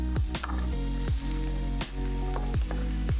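Carrots and onion fry in a pan with a continuous close sizzle, broken by repeated scraping strokes and clinks of a utensil as the vegetables are stirred.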